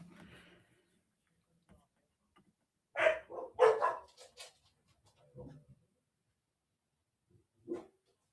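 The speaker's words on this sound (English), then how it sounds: "I can hear the dogs barking." Dogs bark in a short cluster of yelps mid-scene, fairly distant and faint, with quiet, sparse sounds before and after.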